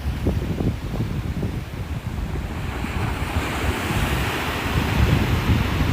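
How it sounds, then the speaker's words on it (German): Water splashing and surging in a video game, a broad, constant rushing wash like surf that swells slightly toward the end, steady and close, with no voices. "Oh mein Gott, spritzt das da."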